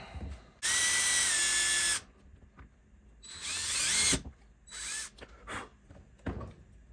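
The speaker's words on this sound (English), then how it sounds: "let's get the drill. Drill these out." A power drill drills holes in a Kydex knife sheath in a loud, close burst, then a second, uneven burst with the pitch shifting, followed by scattered clicks and handling noises.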